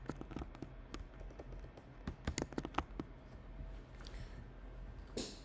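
Keys clatter on a MacBook keyboard in uneven bursts of quick, close taps, some louder clusters in the middle, with pauses between words.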